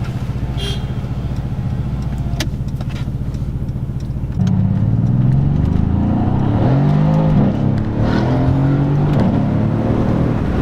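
A Mercedes C63s AMG coupe engine drones steadily, then roars louder as it accelerates hard, its pitch climbing and dropping through several quick upshifts, heard close from inside the car.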